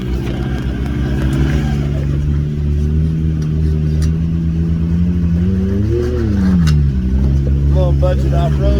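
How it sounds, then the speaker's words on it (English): An off-road vehicle on Maxxis Zilla tyres doing a burnout on wet trail ground, its engine revving hard and steady with a rising surge near the end, loud and close, with voices faintly underneath. "Budget off-road burnout. Tires smoking."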